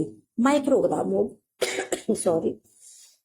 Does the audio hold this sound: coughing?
yes